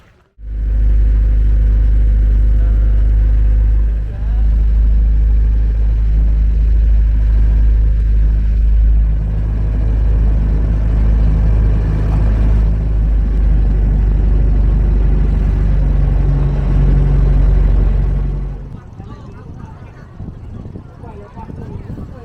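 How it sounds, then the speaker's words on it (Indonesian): A boat engine rumbles loudly and steadily for most of the stretch with a deep low drone, then cuts off near the end, leaving quieter ambient noise, at Mutun Beach, Lampung, for the crossing to Tangkil Island. "itu perahu yang mau mengantar kita kembali"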